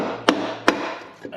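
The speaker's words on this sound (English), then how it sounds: "Let me get something to tap it with" Two sharp knocks about 0.4 s apart, then a fainter third, as a piece of soft material is used instead of a hammer to tap a housing loose during a HEMI engine swap; near and clear with no talk.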